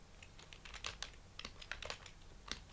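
Quiet, close typing on a computer keyboard while paragraph text is entered into HTML code, an uneven burst of light key clicks with no speech.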